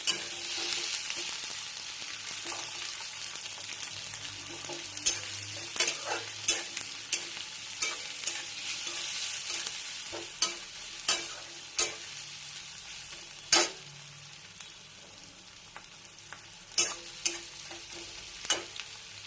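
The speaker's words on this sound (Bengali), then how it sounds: "আদা রসুনটা একটু বেশি ভাজা হয়ে গেছে, একটু কম ভাজতে হতো।" Ginger, garlic and onion fry in a pan, a steady soft sizzle broken by sharp clacks of stirring at irregular intervals, with no talk.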